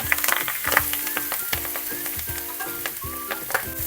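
Onions and spinach sauté in a hot pan, a steady sizzle punctuated by repeated scraping and clinking stirs at a quick, uneven rhythm, close and clear with no talking.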